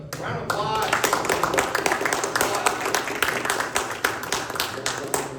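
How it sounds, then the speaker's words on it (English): Audience claps steadily through a Q&A wrap-up at a blockchain talk, a dense, even patter of many hands that holds at one level throughout, with some voices mixed in. "All right, guys, round of applause."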